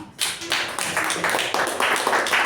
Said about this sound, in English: A big round of applause to Toastmaster Rachana.